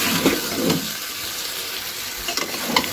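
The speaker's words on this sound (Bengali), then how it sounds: "তো আমি আবারও 5 মিনিট আলুর সাথে মাংসগুলো কষিয়ে নেব।" Duck meat and potatoes fry and sizzle steadily in a pan, with a continuous crackle and a few louder stirring scrapes near the start and end, close and without talk.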